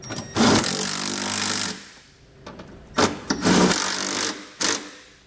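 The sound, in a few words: tightening nerf bar bracket bolts with a 13mm socket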